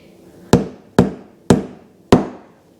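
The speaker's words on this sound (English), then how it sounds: "maybe take the end of my screwdriver and just give it a couple of whacks." Four sharp, hard knocks at a slow, slightly uneven pace as the end of a screwdriver whacks a part of a bathroom fan onto its motor shaft, close and loud with no talking.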